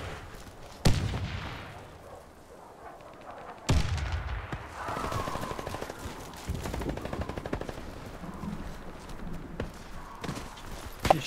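Warface match with a sharp grenade blast and gunshots, several loud close cracks separated by quieter stretches of rapid clicking fire and footsteps.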